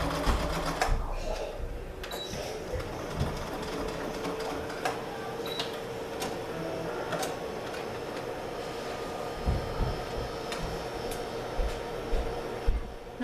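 Sewing machine stitching thick apron fabric for a children's apron, a steady close whirring run with faint ticks and occasional clunks where the thick layers catch, heard alone without talk.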